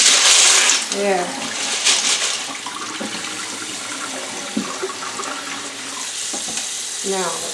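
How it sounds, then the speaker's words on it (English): Water runs steadily from a tap into a container, a continuous splashing rush that is loudest at the start and then settles to a steady fill, with a few brief clinks and a short spoken remark. "Now the water fill in there."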